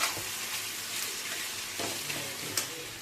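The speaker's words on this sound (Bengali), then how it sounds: "একটু ভালো করে পেঁয়াজগুলোকে নাড়িয়ে ছাড়িয়ে ফ্রাই করে নেব বেরেস্তা" Sliced onions frying in hot oil into crisp birista for chicken darbari, a steady close sizzle with soft stirring scrapes and occasional spatter, no talking.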